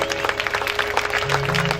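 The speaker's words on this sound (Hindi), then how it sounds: "तालियां बजाइए अपने लिए।" Audience clapping at a live devotional bhajan gathering for Baba Shyam: steady, dense applause from a crowd, moderately loud, with a faint sustained tone from the sound system behind it.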